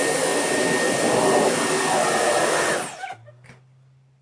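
A cheap turbo head attachment on a vacuum cleaner runs on deep-pile carpet, giving a loud steady whoosh that cuts off after about three seconds and is followed by quiet handling sounds.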